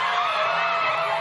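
A talk show studio audience shouting and whooping together in a loud, sustained roar, many voices blended into one continuous wall of sound.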